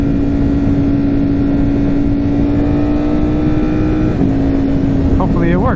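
A 2021 Ducati Streetfighter V4S with an Akrapovic exhaust holds a steady loud engine drone with heavy wind buffeting, the pitch shifting slightly near the end.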